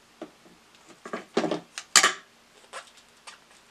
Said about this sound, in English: And then cut it off.